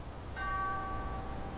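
A single bright bell chime rings out and sustains with a clear, slowly fading tone over a soft background hiss in a magical fairy-tale setting.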